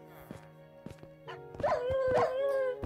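Dogs in a video game bark and yip in short sharp bursts, then a longer whining, howling call builds toward the end, close and fairly loud with steady background tones underneath.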